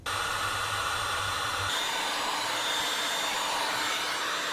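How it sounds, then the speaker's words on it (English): A heat gun blowing steadily while melting candle wax off a stainless steel countertop, a loud continuous airy roar that holds at an even level throughout with no talking. "you can just heat gun that wax off easily"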